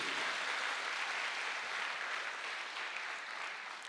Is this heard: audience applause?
yes